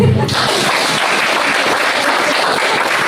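Audience applause during a stage welcome at a speech event, a dense steady wash of clapping that carries on evenly throughout.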